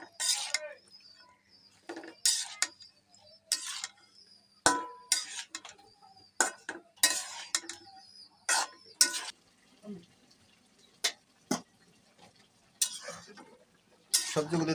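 Vegetables and spices being stirred in a pan while rohu fish with beans is cooked, with intermittent scraping strokes of the spoon in bursts separated by quiet pauses, close up.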